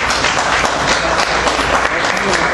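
An assembly audience at a plenary session breaks into loud, sustained applause, dense clapping from many hands that fills the hall, with some voices mixed in.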